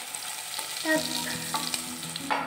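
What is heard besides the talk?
potatoes frying in oil with salt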